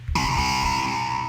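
A bright, buzzy synthesizer lead note made in Logic Pro X sounds alone, loud and sustained for just over a second.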